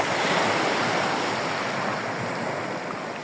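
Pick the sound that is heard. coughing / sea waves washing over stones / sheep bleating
sea waves washing over stones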